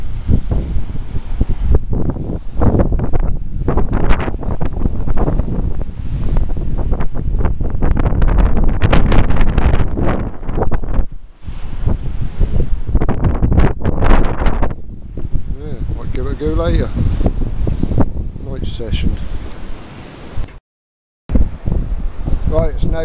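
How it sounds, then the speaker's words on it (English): Strong wind gusts across an open sandy beach, buffeting the microphone with loud rushing and rumbling that rises and falls, while a person talks now and then over it. "Bit of wind."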